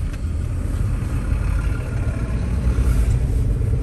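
A car engine runs steadily, a low, near rumble dominating the whole stretch with no talk over it.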